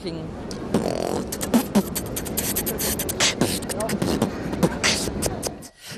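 A voice beatboxing, making punchy percussive bursts, clicks and hisses in a quick irregular rhythm that imitate drums.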